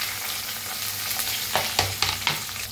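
Chopped onion with cumin seeds and curry leaves fries in oil in a pan, a close, steady sizzle with a few sharp stirring scrapes near the end.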